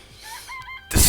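A video-game chicken in its coop gives a few quick tonal clucks, then a loud broadband burst cuts in at the end, all within about a second and with no voices.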